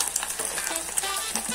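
Bacon frying in a pan with fish fillets, giving a dense, close crackling sizzle with small pops throughout.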